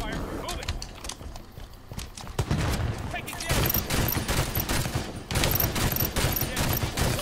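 Rapid SMG fire in a Halo 5: Guardians multiplayer match crackles in dense, continuous bursts with other weapon blasts, louder in the second half, while a player talks over the action.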